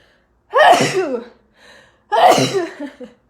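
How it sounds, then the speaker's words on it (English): Two loud, close sneezes a second or so apart, each a sharp burst with a breathy intake between them. "I'm going to sneeze."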